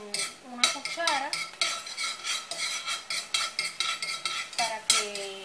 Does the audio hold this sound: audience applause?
no